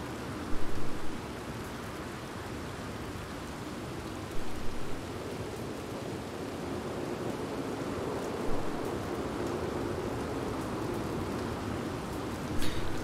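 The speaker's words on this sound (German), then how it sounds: "Regnet immer noch." Steady rain falling in the video game Red Dead Redemption 2, a continuous soft hiss of rain on surfaces with a few slightly louder spatters, moderately quiet and uninterrupted.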